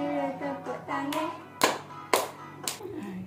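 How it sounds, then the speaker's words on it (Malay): A few sharp hand claps land in a rhythm along with a children's song, separated by sung or spoken voices, close and fairly loud. "Kalau rasa gembira, tepuk tangan."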